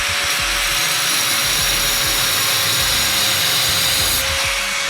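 An angle grinder fitted with a Bosch diamond blade cuts porcelain tile by hand, giving a loud, continuous high-pitched motor whine with steady gritty cutting noise and no pauses.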